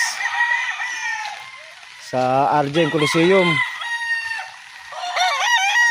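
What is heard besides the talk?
chickens and roosters crowing on a farm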